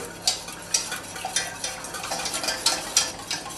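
Chocolate soufflé batter being mixed very fast as flour goes in, making quick, close, irregular scraping and tapping strokes against the bowl, with no voices.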